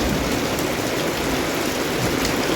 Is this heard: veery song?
no